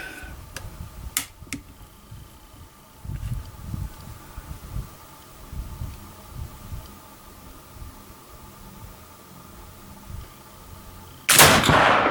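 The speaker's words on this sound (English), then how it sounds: "Okay, it'll be the 3rd shot. with 80 grains." A Kibler Woodsrunner muzzleloading rifle fired with an 80-grain load gives a sharp, loud report near the end, after a quiet stretch of faint outdoor ticks and knocks.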